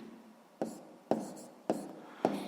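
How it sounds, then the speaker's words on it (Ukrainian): Pen strokes on paper while writing down a sixth-grade math answer: four short, crisp scratching bursts spaced about half a second apart, close and fairly quiet against a soft room hush. "записуємо тоді відповідь, я запишу тут"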